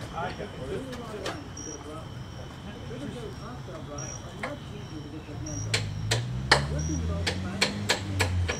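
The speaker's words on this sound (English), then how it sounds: "Tap it in with the hammer." A nut being tapped into place with a hammer during an engine swap on a 1982 Monte Carlo, sharp metallic taps repeating close by, sparse at first and then quicker, with people talking nearby.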